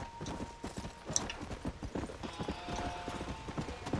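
Horse hooves clip-clopping in the video game Red Dead Redemption, a steady, fairly close rhythm of hoofbeats running throughout with only faint background sound.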